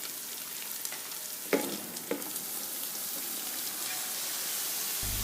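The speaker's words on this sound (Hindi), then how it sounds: "मसाला हमारा भून गया तो हम पहले इसमें सरसों डाल देंगे।" Mustard greens added to spices frying in a pan for sarson ka saag, bringing a steady soft sizzle with a couple of sharp clanks and rustles as the leaves go in.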